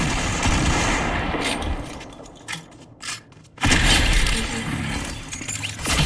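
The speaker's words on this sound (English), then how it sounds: "Oh shit, someone's shooting." Video game gunfire crackles in sharp bursts against a loud, busy game backdrop, with the shots fading briefly in the middle before a loud wash of noise returns.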